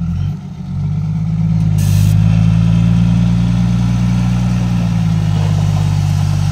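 A heavy diesel tractor engine idles steadily close by, a deep continuous rumble with no talking.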